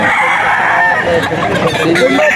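Chickens and chicks at a poultry seller's stall, with loud close clucking and crowing over a busy crowd murmur, and voices talking in the background.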